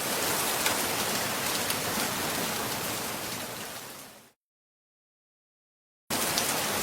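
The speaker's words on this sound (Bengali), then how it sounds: "কিরে সুজয় আমরা তো বৃষ্টিতে ভিজে পড়ে চলে এলাম" Heavy cartoon rain pours in a dense, steady hiss that cuts out abruptly to silence for a couple of seconds, then resumes at full strength.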